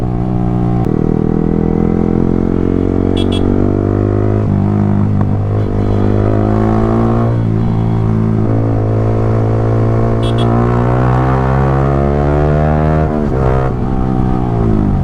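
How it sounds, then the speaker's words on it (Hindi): Yamaha R15 V3 motorcycle fitted with an Akrapovic full-system exhaust, revved hard and held near high throttle, a loud, close, continuous engine wail that climbs and dips in pitch over about fifteen seconds. "तो भाई लोग बताओ आप लोगों को जो इसका एग्जॉस्ट नोट कैसा लगा"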